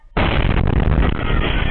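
A deafening explosion in Zamboanga City, picked up by a CCTV camera, bursts in suddenly and roars on as one loud, continuous blast.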